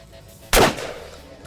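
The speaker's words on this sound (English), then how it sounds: "I'm gonna aim between the left guy and the middle guy and see if we can get both of them with one shot" A single loud shotgun blast fires at close range: one sharp report followed by a short decaying echo, with no voices.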